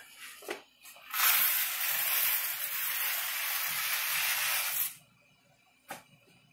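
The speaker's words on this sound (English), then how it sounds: "So we got boiling water." A steady, loud rushing hiss of water at a rolling boil in a pot, lasting several seconds, with a couple of faint clicks before and after.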